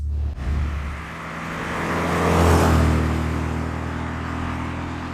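A 1967 MGB engine accelerating in third gear at around 2,000 rpm, a close, steady droning hum that swells to a louder peak midway and then eases slightly as it keeps pulling.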